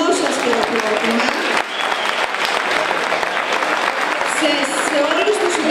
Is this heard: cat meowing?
no